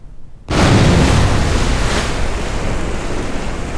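A probe in a video game plunges into the ocean at close to Mach 1, sounding as a sudden loud burst of rushing water and surf that bursts in after a brief quiet moment and then holds steady as a broad roar.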